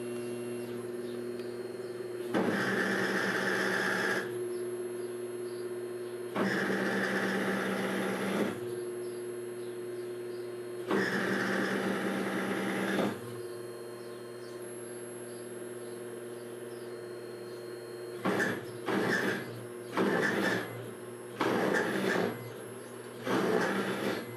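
A vintage Barker horizontal mill converted to CNC running, its steady motor hum joined by several repeated bursts of louder cutting noise, evenly spaced at first and then shorter and quicker toward the end.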